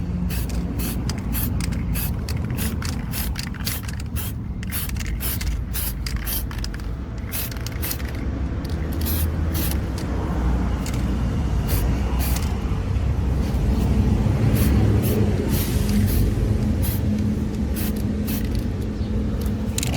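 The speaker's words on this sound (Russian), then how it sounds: "Стряхнул я баллончик с эпоксидным грунтом и начинаем." An aerosol can sprays epoxy primer onto a rusty car sill in a series of repeated hissing bursts. The bursts come close together over a low background rumble and stay fairly loud throughout.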